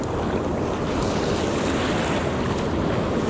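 Ocean surf washing steadily onto a San Diego beach at Oceanside during surf fishing, a continuous loud roar of breaking waves with wind buffeting the microphone throughout.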